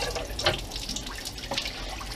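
Tap water runs into a pot to cover chicken gizzards in a home kitchen, a steady close splashing stream with a few brief clinks.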